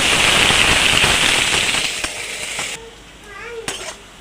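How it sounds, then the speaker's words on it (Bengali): Onions fry in a pan with a loud, dense crackling sizzle that fades after a couple of seconds into quieter sputtering, with a few faint scrapes and a brief voice. "পেঁয়াজটাকে ভেজে নেব"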